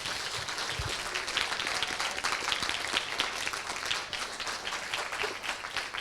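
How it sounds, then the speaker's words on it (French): Sustained applause from an audience at a game jam closing ceremony, dense steady clapping filling the room for several seconds with no break. "ça applaudit beaucoup"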